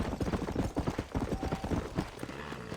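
A horse's hooves clip-clop at a steady trotting rhythm in the Western video game Red Dead Redemption, close and clear with no talk over them.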